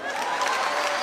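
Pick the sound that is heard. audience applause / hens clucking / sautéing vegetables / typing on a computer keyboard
audience applause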